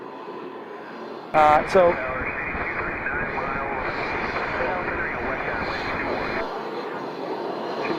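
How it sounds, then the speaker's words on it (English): A fixed-wing aircraft roars steadily at Scottsdale airport, with a burst of radio chatter cutting in early before the engine noise continues alone and then fades away. "it is a great place, as you can see, for viewing aircraft"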